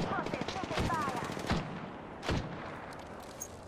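Sniper rifle shots in an online shooter game, a couple of loud booming cracks over dense, continuous game noise and rattling gunfire, with faint voice chat underneath.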